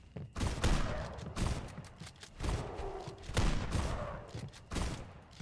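Rapid bursts of gunfire in a wendigo-hunting survival video game, loud and close, firing in several clustered volleys separated by short gaps across the stretch.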